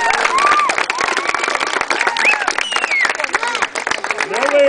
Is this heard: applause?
yes